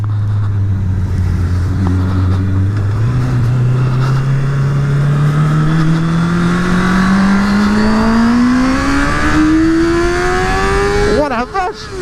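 Honda Hornet 650 four-cylinder motorcycle revving hard in first gear, a loud rising engine whine climbing steadily in pitch over about eleven seconds before a brief shift stutter at the end.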